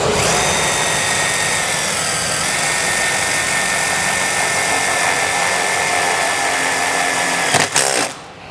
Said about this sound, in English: I'll start this with a self-tapper, and you go to the outer 2 screw hole openings.